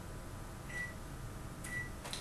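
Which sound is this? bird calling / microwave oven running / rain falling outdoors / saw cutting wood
microwave oven running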